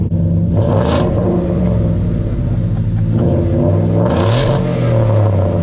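A lifted Ford F150 pickup's engine revs hard through a loud muffler, deep rumbling rising and falling in several surges, close and very loud.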